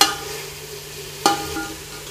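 Mutton being stirred into a spiced masala for Madurai-style dum biryani, a soft steady scraping and faint sizzle throughout, with one sharper clank of the spoon partway through.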